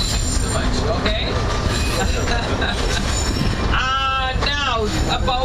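The St. Kitts Scenic Railway train runs with a steady rolling clatter and loud, wavering wheel squeals near the end, with people talking faintly over the noise.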